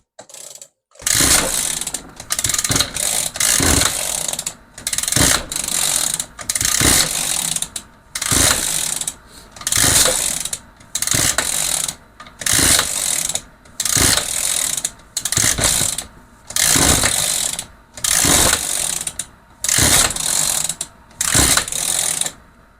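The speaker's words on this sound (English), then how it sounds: "Engine is on." An Echo small engine runs after its carburetor is primed with the choke on. It fires in short, loud mechanical bursts separated by brief gaps, repeating in an uneven rhythm close to the listener.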